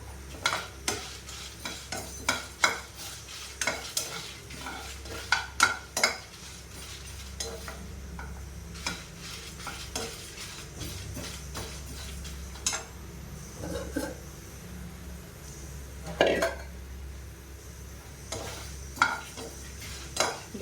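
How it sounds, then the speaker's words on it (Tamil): Three Kashmiri chillies dry-roasting in a pan without oil, quiet rustling with repeated sharp scrapes and clicks from stirring against the pan, irregular and close, under a low steady hum. "நான் 3 காஷ்மீரி மிளகாய் போடுறேன். வறுத்துக்கலாம்."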